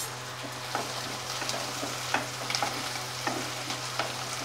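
Onions and curry leaves fry in oil in a pan for dal, a steady sizzle with repeated scraping stir strokes at close range, under a low constant hum.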